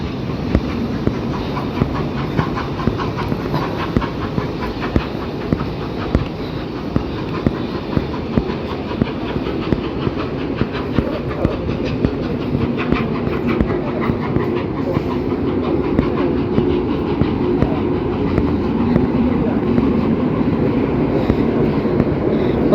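The Railway 200 Inspiration train, hauled by a Class 66 diesel locomotive, rumbles past close by at the Bluebell Railway, with steady clickety-clack of wheels over rail joints and a dense, continuous roar throughout.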